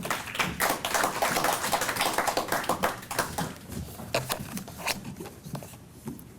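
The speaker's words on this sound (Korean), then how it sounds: "우리 박수로 환영하겠습니다" Seminar audience at a church theology conference applauding to welcome a speaker, dense close clapping that stays full for a few seconds, then thins into scattered claps and fades.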